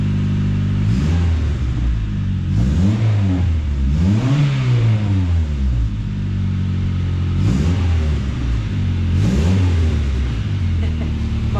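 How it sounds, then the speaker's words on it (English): A turbocharged Honda Civic's D16Y7 engine revs repeatedly, each blip climbing sharply in pitch and falling back to a steady idle, loud and close, with a voice talking over parts of it. "when you're revving it vibrates the car a lot"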